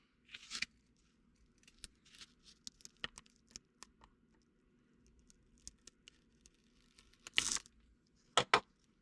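Scissors trimming a thin strip of overhanging material on a homemade tactical-belt glove clip: scattered small snips and crinkles, close and quiet, ending in a couple of sharper, louder cuts, with no talking.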